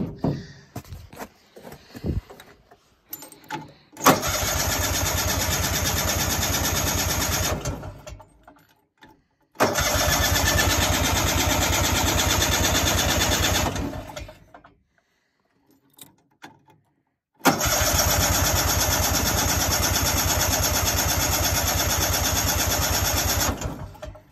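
A 1971 Ski-Doo Olympic 335E snowmobile engine is cranked and fires in three separate attempts. Each run is a loud, steady, buzzing two-stroke drone of several seconds, with rattly cranking and quiet gaps between them.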